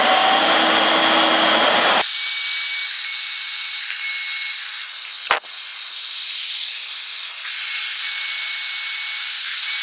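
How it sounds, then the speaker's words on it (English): A hair dryer blows into a 2002 Acura MDX taillight to dry out moisture, a steady whooshing whine that shifts tone after a couple of seconds, with one brief click partway through. "Just use a hair dryer to finish drying it out."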